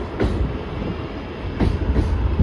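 Yeshwantpur Express 16548, hauled by a WDP 4B diesel locomotive, rumbles along steadily from onboard with a loud low drone and a few sharp rail knocks, and no voices.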